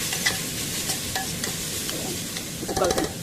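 Dal roasting in ghee in a pan for wheat rava pongal, stirred steadily: a continuous close sizzle with scraping strokes and a brighter clatter of the spoon near the end, no talking.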